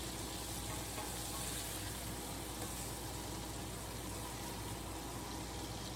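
Steaks sizzle and fry in a hot skillet with a steady, dense crackling hiss that holds level from start to finish, close and fairly loud, with no voices.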